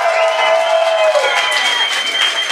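The audience at a science slam in Freiburg cheers, shouts and claps in a dense, loud, continuous roar, with a few higher whoops rising above the crowd.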